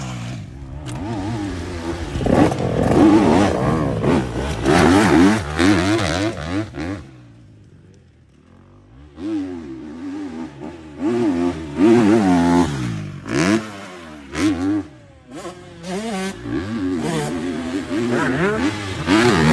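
Motocross motorcycle engine on a dirt track, revving hard and rising in pitch through repeated acceleration bursts, with a brief lull mid-way before it roars again, loud and near.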